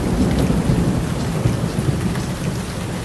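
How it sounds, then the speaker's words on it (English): Steady heavy rain with rolling thunder during a storm, a dense continuous wash of downpour and low rumbles at constant loudness, no voices. "Then the rain started."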